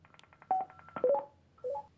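Cardo Freecom 2 motorcycle intercom playing its call prompt, a sequence of short electronic beeps and tones, a few clipped pulses then a brief two-note chime, clear and close with no talking.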